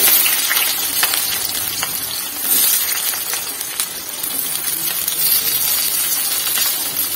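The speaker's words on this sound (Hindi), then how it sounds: "आलू को अच्छे से फ्राई कर लेंगे।" Potatoes fry in a pan with chillies for sago khichdi, giving a steady, close, bright sizzle with scattered crackles and pops throughout and no talking.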